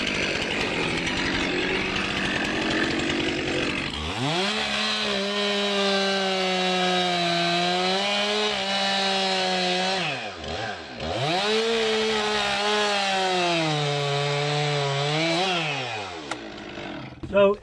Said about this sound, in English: So I'm going to bore in on this side, go in about 6 inches, cut out the back